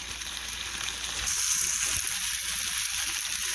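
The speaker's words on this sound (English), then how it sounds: "now you let that simmer for a little while" A pan of chicken pasta sauce sizzling and simmering on the stove, a steady close hiss with a soft bump or two as the pan is handled, no talking.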